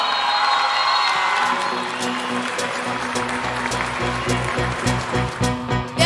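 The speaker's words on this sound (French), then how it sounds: "Tonnerre d'applaudissements pour Bédiacon Ariane" A theatre audience claps and cheers for a singer at a talent competition finale, a loud continuous wash of applause that gives way to a rhythmic band intro.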